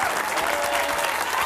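A studio audience on an Argentine television show claps in a dense, steady round of applause, loud and continuous for a brief stretch.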